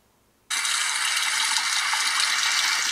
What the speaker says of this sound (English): then we can just play the water running sound